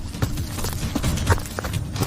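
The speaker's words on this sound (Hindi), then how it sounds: "अरे, घोड़े की आवाज!" Horse hooves clip-clop in a quick, uneven gallop-like rhythm, moderately loud against a dense background of ambient noise in an audio drama scene.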